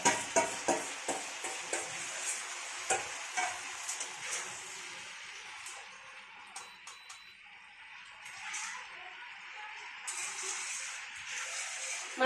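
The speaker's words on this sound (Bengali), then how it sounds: "মাছটা দিয়ে দিলাম, আমার তো আলুটা আগে ভাজাই ছিল, তার মধ্যেই দিয়ে দিলাম।" Amudi fish frying in a pan with already-fried potatoes, with a steady sizzle and a series of sharp spatula clicks and taps against the pan early on, close and without talk.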